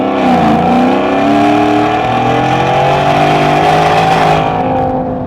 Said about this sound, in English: That is really loud, especially for the passenger, as this is a side exit exhaust that comes out just before that passenger rear wheel.